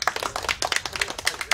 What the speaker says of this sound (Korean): 여러분 축하의 박수 한번